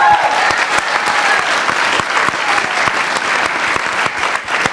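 Theatre audience at a film Q&A conversation breaks into applause, a loud, dense, steady stretch of many hands clapping that continues for several seconds without talk.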